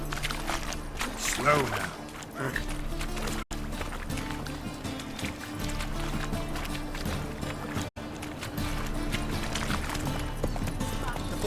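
Roach, the horse in The Witcher 3, trots with a steady run of hoofbeats under a continuous game soundscape, while a voice speaks briefly over it.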